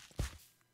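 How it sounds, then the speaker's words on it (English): A single heavy footstep thud in Minecraft, short and close, with a faint trailing scuff. "Wow, I have loud footsteps."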